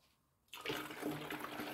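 Water pours into a small container for mixing a graphite foundry coating, a sudden rushing splash that starts after a brief quiet and continues steadily up close.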